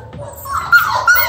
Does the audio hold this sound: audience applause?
no